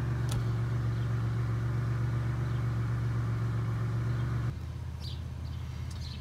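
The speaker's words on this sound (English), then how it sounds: "The car has been running for 13 minutes." A Pontiac Aztek's engine idles at operating temperature after running for thirteen minutes, a steady low hum with a constant drone that drops in level near the end, heard from inside the car.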